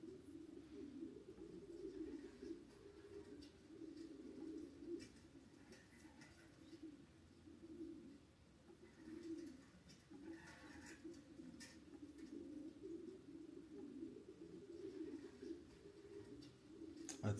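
Pigeons cooing through a TV speaker from a YouTube video, a steady low murmuring coo that continues throughout at a moderate, slightly distant level, with no speech.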